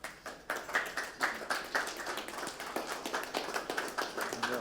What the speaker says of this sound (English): I get the applause.